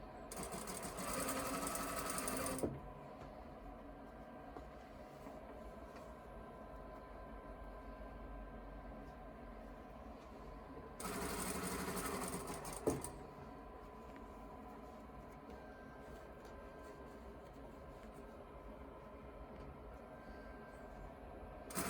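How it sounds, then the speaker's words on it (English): A sewing machine stitches around a fabric scrunchie in two quick motor runs, one at the start and one midway, each a steady close whir lasting a couple of seconds. Quiet room tone fills the gap between them. "You're just going to sew all the way around."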